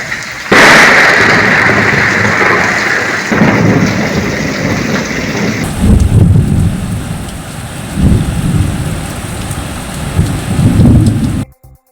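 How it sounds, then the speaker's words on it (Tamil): Heavy rain with thunder in Sivaganga district, a loud continuous downpour hiss broken by a sharp crack near the start and several deep rolling rumbles later, with no voices. "சுற்றியுள்ள பகுதிகளில் இடிமின்னலுடன் மழை பெய்தது"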